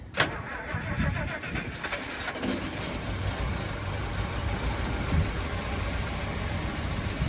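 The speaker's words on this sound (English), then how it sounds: "Started up after a long time not running." A 1961 Rolls Royce Silver Cloud II engine that has not run for a long time cranks, catches and settles into a steady, loud idle that rumbles on to the end.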